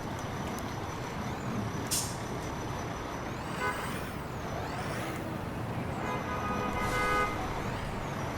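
A heavy fire engine in the video game EmergeNYC rumbles along with engine drone, a sharp hiss of air brakes, and rising and falling siren-like tones in the background.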